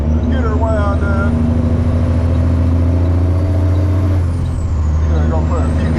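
A truck engine is wound up, a loud, close roar whose pitch climbs, drops back briefly and rises again, with high whines and airy hissing over the deep rumble.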